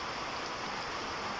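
Rain falls in a steady, even hiss that is fairly close and continuous, with no voices over it.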